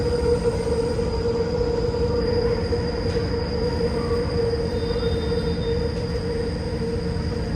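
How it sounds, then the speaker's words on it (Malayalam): A Kochi Metro train runs past near Ernakulam South station with a steady loud rumble and a sustained high wheel squeal, continuous throughout. "കൊച്ചി മെട്രോ."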